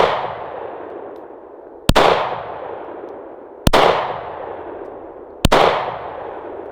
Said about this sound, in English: 40 caliber out of a Glock 23.